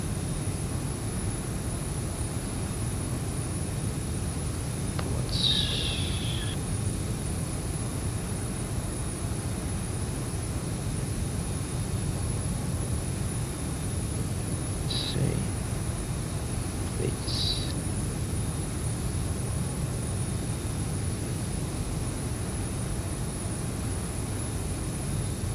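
Steady jet engine drone from a Zibo Boeing 737 taxiing in X-Plane 11, a constant broad hum with a faint high whine and a few brief chirps over it.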